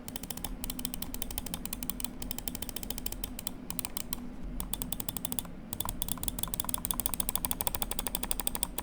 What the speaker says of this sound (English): Moving on to the main clicks now, it's using the FE Pulsar optical switches